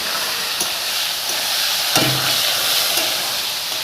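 Tomatoes fry for a vegetarian jackfruit curry, with a loud, continuous sizzle and hiss up close and a couple of brief stirring scrapes near the middle.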